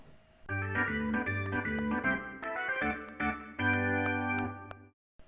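Unused Mario Sluggers game music track: a bright, bouncy synth jingle of short chords and rhythmic bass notes, fairly quiet, ending abruptly after about five seconds.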